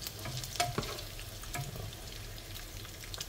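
Pork sautéing in its own rendered fat in a pan, a steady close sizzle with a few sharp spatters and light stirring scrapes throughout.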